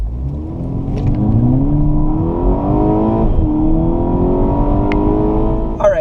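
A Volkswagen MK6 GTI with a DSG gearbox pulls away from a standstill, its engine note rising in smooth climbing pitch sweeps, dipping briefly at a shift before climbing again, loud and close from inside the car.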